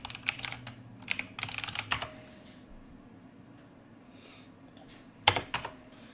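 Someone types on a computer keyboard in quick bursts of clicking keystrokes, with quiet gaps and a final short flurry, close but soft, no talking.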